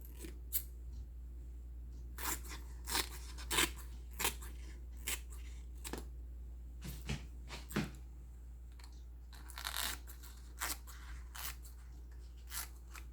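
Scissors snip through the edges of a banana-leaf wrapper for bibingka, giving a series of short, crisp cuts in an irregular rhythm, close and fairly clear against a low steady hum, with no talking.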